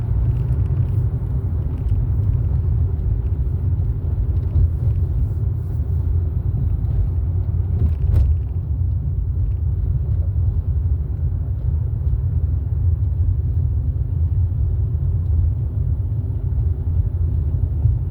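Steady low road rumble and engine drone fill the cabin of a car driving home through rush-hour traffic, a continuous even hum with no voices.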